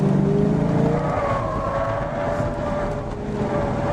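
A car on a skidpad circling counterclockwise, its engine revving up steadily as the driver accelerates, a continuous loud drone with rising pitch and no talk.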